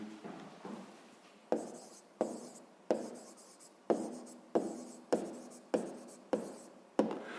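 A pen or pencil writes on paper in a series of short, close scratching strokes, about a dozen distinct marks coming in a quick steady rhythm, soft and without any talk.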